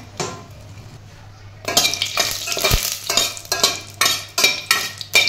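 Whole green cardamom, bay leaf, star anise, cloves and black peppercorns roasting in hot oil in a pan, with steady sizzling and repeated metal scraping and stirring strokes that grow louder after a quiet start.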